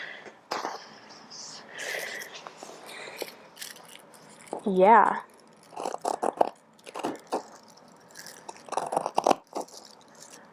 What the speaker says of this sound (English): Hopefully you can hear the sound of me cutting, and it's satisfying.